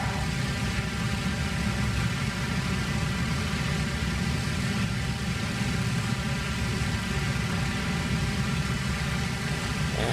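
A World War II warbird's piston aircraft engine drones steadily in a fighter-bomber flight game, a constant loud, even roar with no pauses for the whole stretch.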